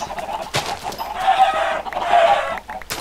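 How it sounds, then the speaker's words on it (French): Chickens clucking in the video game Archero, a few short clucking bursts in quick succession, close and fairly loud. "il y a une invasion de poulet"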